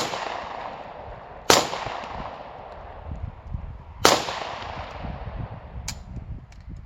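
Shots from a Masterpiece Arms Mac11 pistol on an outdoor range ring out as sharp, loud single cracks spaced a couple of seconds apart, each followed by a fading echo over steady background noise.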